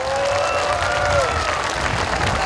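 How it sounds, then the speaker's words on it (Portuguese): An assembly crowd applauds with steady, dense clapping that stays fairly loud and even for a couple of seconds, with some cheering mixed in. "Uma salva de palmas para todos vocês."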